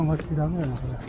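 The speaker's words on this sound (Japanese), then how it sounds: "セミの鳴き声が大きくなっていますが、" Cicadas drone from a nearby park along a Tokyo street, a steady high-pitched buzz running underneath someone talking close by.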